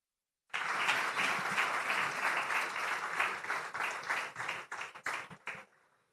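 Audience applause fills a summit hall after a screened film, a dense even clapping that starts abruptly, holds steady, then thins into scattered claps and fades out.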